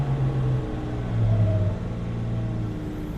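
A Kubota RTV 1100C side-by-side UTV with hydrostatic drive cruises along an old dirt road, its engine a steady low rumble from the cab with a slight swell partway through.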